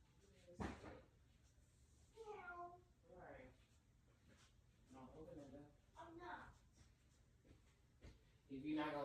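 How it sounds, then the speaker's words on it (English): A cat meows several times near a house door, the calls fairly close and clear, mixed with household clatter like a cupboard and people talking in the background. "Big ass Garfield looking cat in front of our door."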